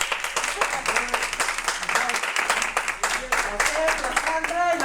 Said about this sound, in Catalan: aplaudiu-lo, aplaudiu-lo